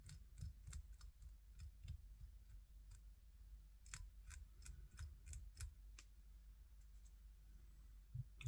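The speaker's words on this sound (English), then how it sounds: "that's a much better job of trimming that hackle" Faint, sparse snips of scissors trimming feather hackle on a fishing fly, scattered crisp clicks over a low hum, with a louder knock at the very end.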